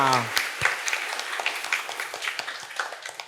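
A church congregation at a Sunday Mass at St. Ignatius Loyola applauds the children who prepared the reflection; a voice trails off at the start, then scattered, moderately loud clapping continues and thins out over a few seconds.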